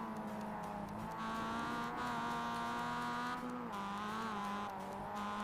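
Mazda MX-5 race car on the Virginia International Raceway North circuit, engine note dropping in quick steps as it downshifts, a steady close onboard drone with no talk.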